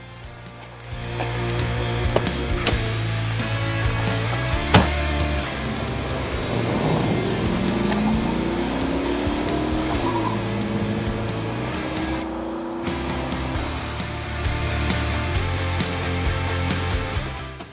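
Holden VN Calais Commodore with a 5-litre 308 V8 driving, a steady engine drone and road noise throughout with rising tones as it accelerates through gears, heard from inside the cabin without talk.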